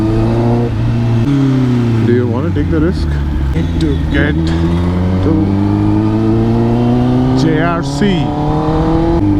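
A loud 2022 Kawasaki ZX10R superbike exhaust drones and revs steadily in traffic, pitch rising and falling across several gear changes, close and dominant while a rider talks over it.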